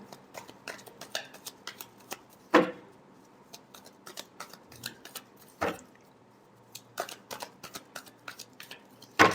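Tarot cards being shuffled in a fast, crisp riffle of papery flicks and taps, with a few louder card slaps standing out, close and clear with no talking.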